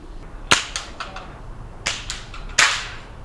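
Rifle shots at an outdoor Oregon state field target championship: three sharp, fairly loud cracks spaced apart, each trailed by softer clicks and brief echoes.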